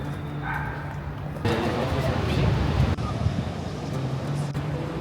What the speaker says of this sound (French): Par contre, les vagues, elles sont agitées.